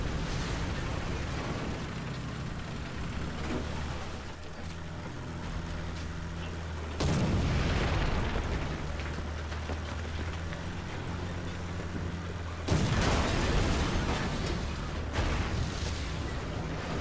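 Heavy booming blasts from a StuG tank gun in War Thunder, two loud explosive impacts standing out over a constant rumbling engine and battlefield noise.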